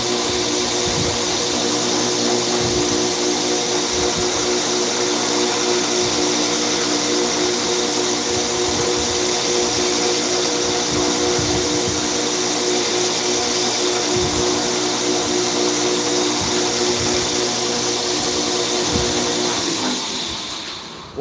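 Belt grinder running on a knife blade at high grit, a steady loud motor whine with a sustained hum and intermittent scraping surges as the steel meets the belt, spinning down at the end with no speech.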